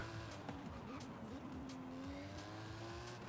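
A car drives through the city in Forza Horizon 5, its engine tone climbing and settling through the gears with a steady hum, faint and continuous, with a quick tire squeal near the start.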